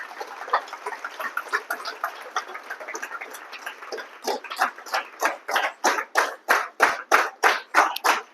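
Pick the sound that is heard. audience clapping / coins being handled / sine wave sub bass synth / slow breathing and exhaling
audience clapping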